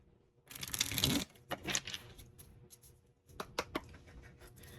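A deck of tarot or oracle cards is shuffled by hand, giving bursts of papery riffling and soft slaps in several short bouts, close and fairly quiet, with no talking.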